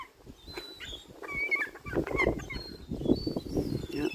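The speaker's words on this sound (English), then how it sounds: "Yeah, 20 seagulls." Seagulls squawking and calling while feeding alongside pigeons, a busy flock with repeated harsh cries, some close and loud, overlapping in irregular bursts.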